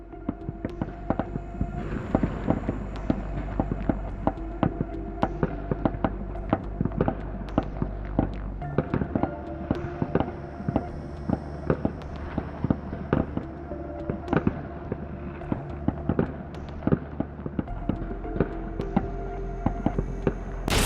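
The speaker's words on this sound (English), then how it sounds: "5 Russian soldiers with rifles opened fire on the bunker" Rifle gunfire from several soldiers shooting at a bunker in a combat setting, heard as dense, irregular bursts of sharp cracks over a constant low rumble, continuing loud for the whole stretch with no voices.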